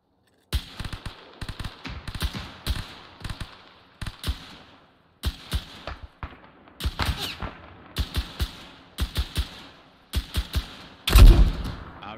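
Gunfire during a military operation in a tactical video game: sharp close gunshots in irregular bursts and single cracks, separated by short silences, ending in a louder, heavier blast.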